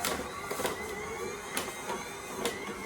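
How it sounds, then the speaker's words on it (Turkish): An electric mixer whirs at medium speed while whipping sugar for a lemon cake batter, a faint steady hum with soft periodic clicks of the beaters against the bowl. "Orta devirde bir 10 dakika kadar çırpacağız."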